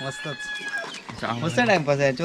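Village chickens on a small Konkan poultry farm cluck and call loudly nearby, with a rooster-like cry among the birds and people talking over them.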